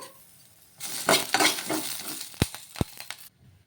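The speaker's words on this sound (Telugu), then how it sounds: "కొంచెం చింతపండు కూడా వేసుకొని ఒకసారి మళ్ళీ కలిపేసుకుందాము" Tamarind being stirred into a cooked chutney mixture in a pan, with a spoon scraping and clinking against the metal in a few brisk strokes. A gentle sizzle runs underneath, and two sharp taps come near the end.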